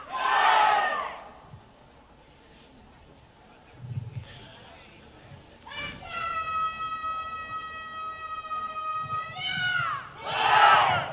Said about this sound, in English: We can hear the Spanish crowd shouting Encarna, Encarna.